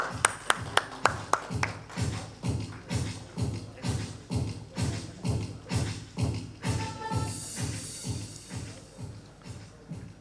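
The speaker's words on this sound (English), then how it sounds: "Everyone come on, let's give them a huge round of applause." At a panel discussion on sustainable packaging, one person near the microphone claps, a few sharp claps at first and then a steady beat of slower, heavier ones, about two per second, with faint murmuring near the end.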